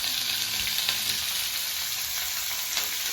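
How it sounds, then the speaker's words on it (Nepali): Onions for a tadka fry in hot oil in an electric pot, giving a steady, close sizzle and crackle with light stirring scrapes and no talking. "प्याज तड्का लाग्यो प्याज हालत थे"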